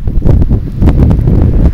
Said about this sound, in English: it was drizzly, a little bit windy as you can hear